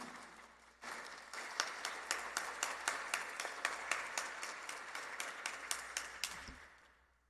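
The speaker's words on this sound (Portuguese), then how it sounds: "Vamos aplaudir a palavra do Senhor." A church congregation applauds at a sanctuary Mass in Tambaú, São Paulo, a crowd of steady clapping that starts abruptly, holds with dense rhythmic hands, and fades out near the end.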